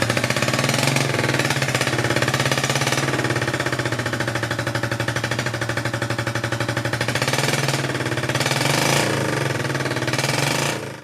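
A 1972 Honda CB350 motorcycle engine runs roughly, a loud, close, rapid uneven popping and chugging that holds steady for the whole stretch and then cuts off, with no voices.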